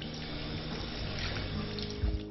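Tap water runs steadily from a faucet into a sink for hand washing, a continuous close splashing hiss with a slightly louder burst near the end.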